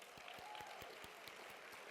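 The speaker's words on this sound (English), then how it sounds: "Can we get a round of applause for these amazing purses?" Faint, scattered clapping from a small group, with steady quick claps rising briefly at the end.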